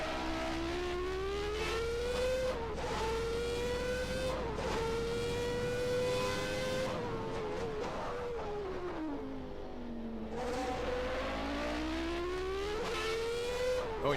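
Onboard sound from a 1991 Formula One car at the Australian Grand Prix, its high-pitched engine screaming steadily near the wing camera, the pitch dipping on downshifts into corners and rising again under acceleration, with wind rush throughout.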